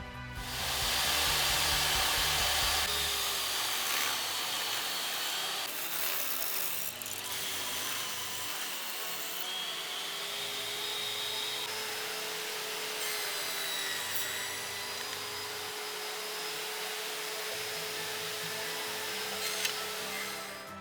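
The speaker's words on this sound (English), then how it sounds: "let's get these ripped down to the final width on the table saw." A table saw rips blackwood boards to width, its steady high whine running loud and continuous for about twenty seconds, with the pitch dipping slightly as each board feeds through the blade.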